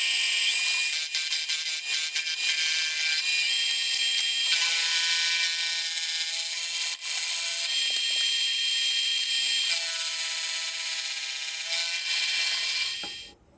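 Metal machining on a steel stud Loctited into and protruding from the bottom plate of a handmade jack plane, a steady high-pitched cutting whine with bright ringing overtones running continuously and loudly until it stops abruptly at the end.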